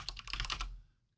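A short burst of rapid, close keystrokes on a computer keyboard entering a database host URL, about a dozen clicks in well under a second, alone and quiet.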